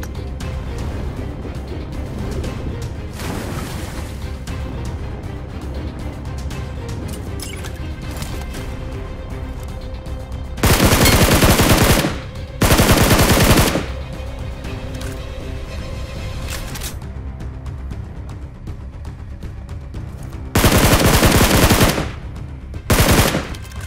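Gunfire in a BGMI battle royale fight, with scattered shots under a constant game backdrop and several loud, dense bursts of automatic fire, two of them long.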